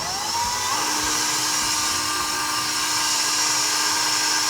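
An electric mixer runs on its highest setting, whipping hot marshmallow mix with a steady, loud high-pitched whine that holds throughout with no talk.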